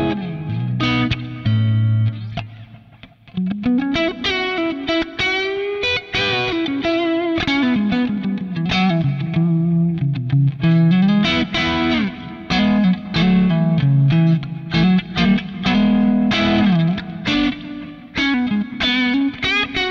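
Electric guitar with P90 single-coil pickups, EQ'd through a Kemper profiler for a brighter single-coil tone, plays a continuous distorted, chorused riff with sustained chords and quick single-note runs, loud and steady with no talking.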